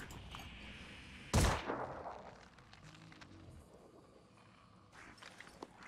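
A single sharp pistol shot in the tactical game Phoenix Point cracks out near the start, its echo fading over a second amid low background rumble, followed later by fainter clicks and thuds.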